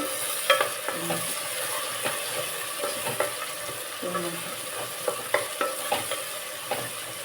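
Chopped onions cooking in a pan with a little salt for chicken biryani, a faint steady sizzle under scattered clinks and scrapes of a spoon stirring against the pan.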